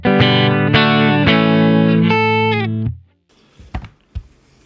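An electric guitar played through Blue Cat Axiom software with a clean tone rings out as loud strummed chords and sustained notes, stopping abruptly around three seconds, followed by a few scratchy string and pick noises.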